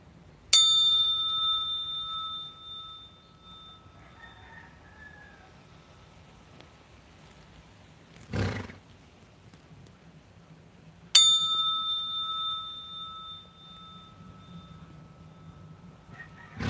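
A bell-like instrument struck with a horse brush or mallet rings out twice with clear sustained tones that slowly decay. A single dull knock falls between the strikes, and the room is otherwise quiet.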